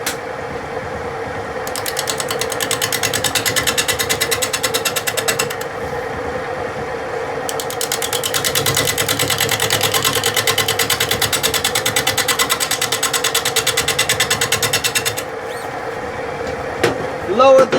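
Wood lathe spinning a redwood burl platter at about 560 RPM, a loud continuous mechanical drone with a rapid rhythmic clatter that persists throughout, briefly dipping before resuming.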